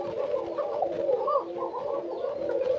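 Koka pigeons at a breeding farm coo in a thin, high call, a continuous overlapping murmur of several birds close by with no talk.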